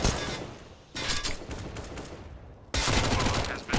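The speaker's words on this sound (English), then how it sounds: "Oh, look at these Mac 10s, Brandon." Rapid MAC-10 submachine gun fire in a competitive esports shooter match, dense broadband bursts that cut off and resume loud and close, with a short quieter gap in the middle.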